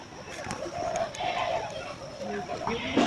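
Pigeons coo close by in soft, throaty, overlapping calls that continue through the short moment.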